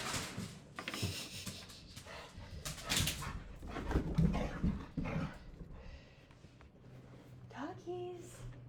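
A dog whimpers and yips in several short bursts, close and moderately loud, among background clatter and people talking.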